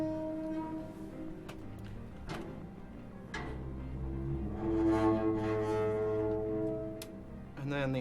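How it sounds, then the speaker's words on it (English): A garbage can lid being scraped and manipulated, raw source material for a sci-fi game creature sound, gives layered metallic droning tones with sharp clanks and a swelling grinding resonance near the end, close and alone. "a garbage can lid being manipulated"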